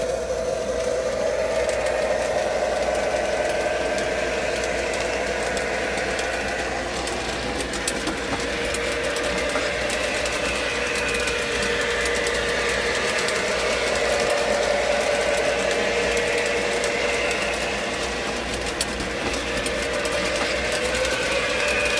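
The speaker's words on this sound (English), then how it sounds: "You can hear the loco sound start up." A model train locomotive hums steadily on an attic Christmas layout, a continuous motor whine with a faint sound-module drone that stays even and close throughout, with no talking.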